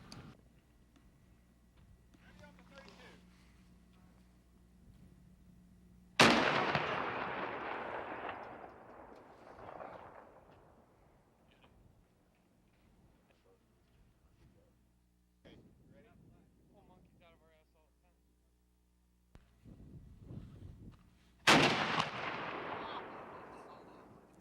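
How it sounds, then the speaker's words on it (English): Historic cannon fired live at the Erie Maritime Museum from a trailer that doubles as firing platform, aimed at plywood targets: two loud, sharp blasts about fifteen seconds apart, each with a long rumbling decay and faint voices between them. "Fire team, commence firing at will."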